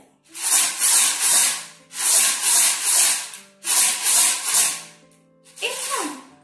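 A plastic bottle filled with rice is shaken up and down in three vigorous bursts of gritty, rattling swish, each lasting about a second and a half, then a short quieter shake at the end, close and loud.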